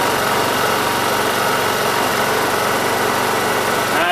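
Honda EU2000i portable inverter generator engine running at a steady, loud, close drone during carburetor regulator adjustment, an even continuous hum with no talk.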